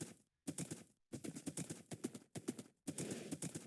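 Horse hooves clip-clop steadily in a survival video game, a fairly loud, even rhythm of steps broken by a few short pauses.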